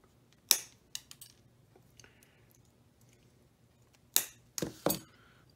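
Snips of nippers cutting the ends off lead came for a leaded glass suncatcher: a sharp clip, a few lighter snips, then three louder crisp cuts near the end, close and alone in a quiet room.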